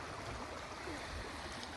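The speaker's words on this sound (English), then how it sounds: "maybe we can sit and take in the water for a second" Water flowing along a stream in an outdoor green space, a steady, soft broadband rush and trickle that holds evenly throughout, quiet and unbroken with no talk.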